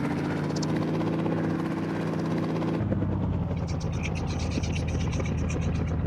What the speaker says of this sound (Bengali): তো আমি এখানে হেলিকপ্টার উঠে পড়বো